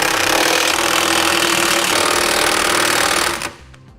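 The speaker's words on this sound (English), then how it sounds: "I'll come back with a 22mm socket and I'm going to snug it all up." A power tool with a 22mm socket rattles loudly and continuously while tightening trailer hitch bolts on a 2015 Acura MDX, then cuts off abruptly near the end.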